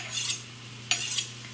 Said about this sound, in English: I'm doing one side, and then I'm gonna do the opposite side to sharpen that blade up